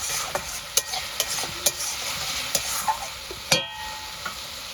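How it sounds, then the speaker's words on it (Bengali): Spice masala with Kashmiri chilli powder sautéing in a pan, a steady close sizzle broken by repeated sharp scrapes of a spoon stirring, with no talk. "মশলাটার সঙ্গে আমি কষিয়ে নেব"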